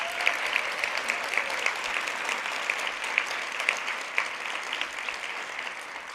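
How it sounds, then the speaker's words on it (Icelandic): Applause from a conference audience, steady dense clapping filling the room at moderate loudness throughout, with no voices over it. "Gefum við gott klapp."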